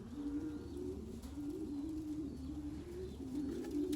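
Racing pigeons, including young birds, coo continuously at close range in a loft, a low steady murmuring drone with overlapping calls and no voices.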